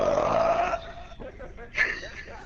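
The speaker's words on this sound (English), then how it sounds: "That like completely echoed that loud ass burp" A loud, drawn-out burp bursts out close to the mic and rings with a roomy echo, followed by a shorter second belch.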